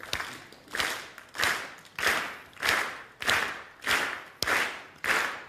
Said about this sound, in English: to please clap at this tempo.